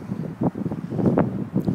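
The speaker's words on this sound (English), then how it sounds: "it's pretty windy today" Strong wind outdoors on a gusty day buffets the microphone in a low, rumbling roar with uneven surges.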